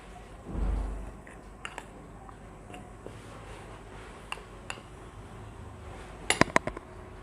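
Aloe vera gel mixture stirred in a glass bowl gives scattered light clinks and taps against the glass, with a soft thump early on and a cluster of sharper clinks near the end, close and with no speech.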